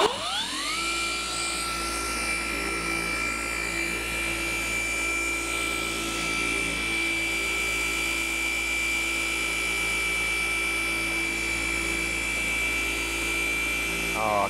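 A car polisher with a cutting pad runs on a 2022 Mazda CX-30, spinning up to a loud, steady whine held close for the whole stretch before winding down at the end.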